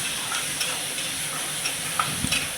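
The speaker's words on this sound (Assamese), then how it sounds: "তাৰপিছত কাটি লোৱা পিঁয়াজ বিলাহীখিনি দি দিলোঁ, দি এতিয়া ভালদৰে লাৰি দিম।" Chopped onion and tomato sizzle and fry in a pan while being stirred, a steady close hiss broken by soft scraping stirs and a few small clicks.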